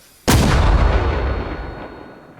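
A single artillery gun in Arma Reforger fires one illumination round, a sudden loud close boom that rolls out into a long fading rumble, with no voices over it.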